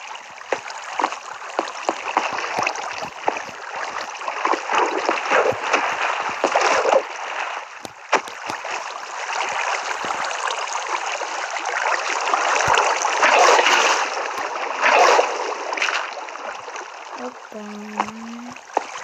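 Steady flowing water in Minecraft, a continuous close trickling and splashing stream that runs unbroken for the whole stretch, with a short low tone near the end.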